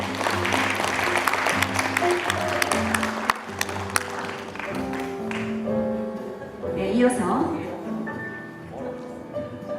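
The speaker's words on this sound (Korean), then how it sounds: "큰 박수 부탁드립니다." Audience applause at a short film festival awards ceremony in Gapyeong Jarasum, a broad wash of clapping over music and background voices, loud at first and then thinning toward the end.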